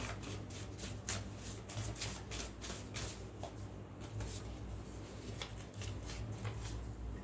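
Tarot cards are shuffled quietly up close, giving soft, repeated riffling and sliding bursts in an uneven rhythm over a low background hum.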